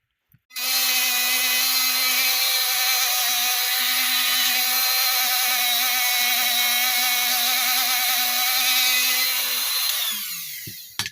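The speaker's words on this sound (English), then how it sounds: "now we're going to put the small tip on, and we're going to start the polishing part." A power tool fitted with a small polishing tip works an aluminum clutch pressure plate, a loud, high continuous whine starting abruptly and running steadily for about ten seconds before stopping, with no talk.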